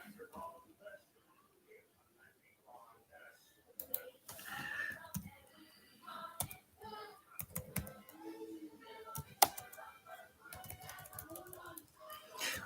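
Keys tapped on a computer keyboard in short irregular bursts, close and fairly quiet, with scattered sharper clicks and some background voices mixed in.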